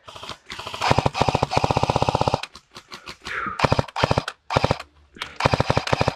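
Rapid bursts of fire from an airsoft PKM machine gun loaded with blanks during an outdoor airsoft game, several loud sustained strings of shots separated by short pauses, close and dominant.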